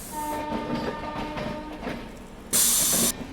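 The New Delhi Howrah Rajdhani Express rumbles as it departs in extreme fog, running alongside the Indore Intercity, with steady rail noise and a loud, piercing horn blast near the end.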